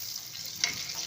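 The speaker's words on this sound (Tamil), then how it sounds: "வெங்காயம் நல்லா கலர் சேஞ்ச் ஆகிற வரைக்கும் வணங்கட்டும்" Onions sauté in hot oil in a pan with fennel seeds, giving a soft, steady sizzle with a brief stir or clink partway through, heard alone for about a second.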